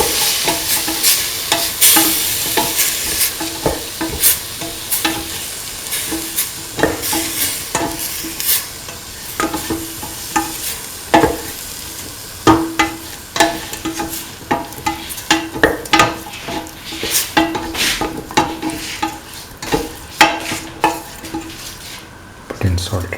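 Beef and green peas mixture being stirred in a pan, with a utensil scraping and clacking against the metal in irregular strokes over a continuous sizzle, close and fairly loud with no voices.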